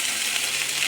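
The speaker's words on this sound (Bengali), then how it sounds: "পোস্তর আলুগুলো ভাজা ভাজা হয়ে গেছে" Potatoes frying in a pan for Bengali alu posto, a poppy seed and potato dish, giving a steady, close hissing sizzle with no voices.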